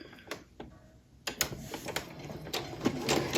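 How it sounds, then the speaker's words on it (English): Sewing machine stitching a quilt block at a short stitch length, a soft mechanical ticking and whirring with irregular clicks, growing busier and louder after a quiet start, heard alone. "Now I'm going to stitch at stitch length 2."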